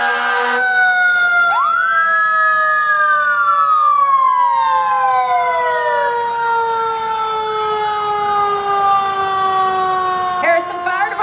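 A Harrison Fire Department fire truck's siren wails loudly during a Christmas parade, one long rising and falling electronic sweep with a sustained tone, close by over faint crowd background and a short horn-like burst at the end.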